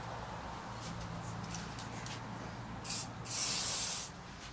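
An aerosol can sprays in hissing bursts while Canyon bike parts are cleaned, two strong blasts following a quieter steady spray, close and loud in a workshop.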